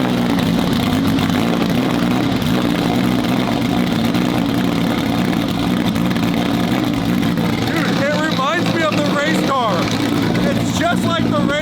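Supercharged Lamborghini engine idling right after a cold start, a steady loud rumble throughout with people talking over it.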